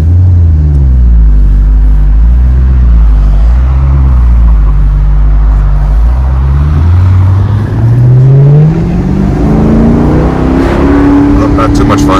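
A 2012 Maserati GT Convertible with the roof open, in sport mode, revs hard in first gear, its loud engine note climbing steadily in pitch from inside the cabin.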